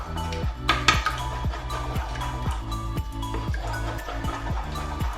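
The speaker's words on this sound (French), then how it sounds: "je vais mélanger mes œufs" Eggs being mixed in a bowl for scrambled eggs, a steady rhythmic tapping and clinking of utensil against the bowl, repeating about twice per second, close and moderate in loudness.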